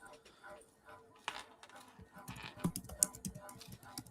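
Clicky typing on a computer keyboard, a run of light keystrokes with sharper taps near the end, heard under an ongoing conversation with voices talking throughout.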